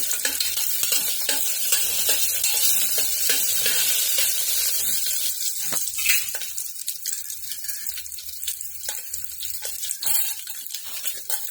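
Bright, crackling sizzle of urad dal, mustard seeds, cumin and garlic tempering in hot oil, loud and close, with scattered pops and stirring scrapes throughout.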